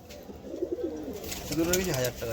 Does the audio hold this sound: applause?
no